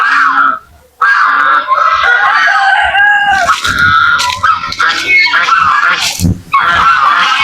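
A flock of geese honking excitedly while waiting to be fed by their keeper, loud and close, with overlapping cackling calls in bursts and a short pause near the start.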